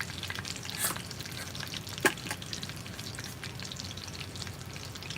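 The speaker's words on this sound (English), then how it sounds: "Frying up a little bit of chicken." Chicken drumsticks fry in a pan in a trucker's cab kitchen, a steady close sizzle and crackle running throughout with a couple of sharper pops and spatters.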